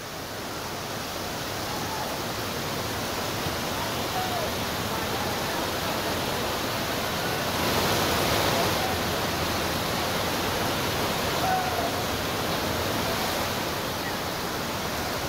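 Heavy monsoon downpour in Bhiwandi, Mumbai region, amid waterlogged market streets, a dense steady roar of rain that swells briefly near the middle and stays even throughout, with no voices.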